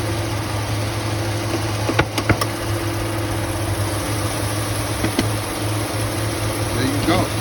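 A 2006 Chevy Silverado idles with its faulty AC compressor clutch, giving a steady low engine hum and broad drone with a few brief clicks and ticks, heard alone at close range.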